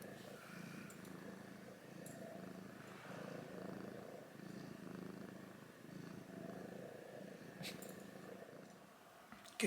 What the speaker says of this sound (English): Some purring ASMR for you now.